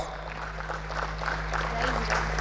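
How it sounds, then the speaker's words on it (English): Conference audience in a grand hall clapping for a Lifetime Achievement Award recipient, a soft continuous patter of hands over a steady electrical hum, with a faint voice in the room. "A big thanks and a big applause."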